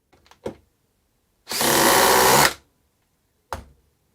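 A DeWALT DCF870 hydraulic impact driver drives a small screw in one steady, loud whirring burst of about a second, with brief knocks before and after.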